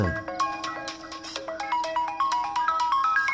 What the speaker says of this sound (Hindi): और अब फोन कर रही है।